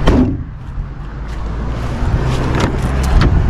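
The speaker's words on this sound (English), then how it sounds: "let me pop the trunk real quick, show you guys that" Trunk of a Dodge Charger RT popping open: a sharp latch release at the start, then a low, steady rumble of the car's surroundings.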